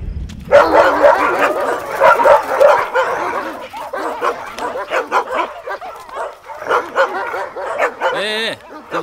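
A dog barks repeatedly in a film scene set at a cemetery, its sharp, close barks coming in quick rhythmic runs with yips and whimpers between them.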